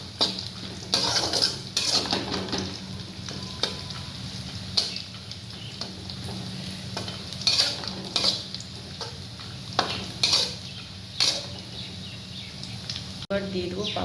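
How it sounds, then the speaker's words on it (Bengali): Peanuts stirred while roasting in a pan, a utensil scraping and clattering against the metal in repeated, uneven strokes over a low, steady sizzle, close and moderately loud. "এবার দিয়ে দেবো আমরা বাদাম, বাদামটা একটু নাড়াচাড়া করে নেব"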